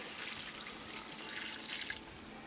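Water pours steadily into a pot of potatoes and sweet peas for about two seconds, a soft splashing rush that stops abruptly, quiet and close.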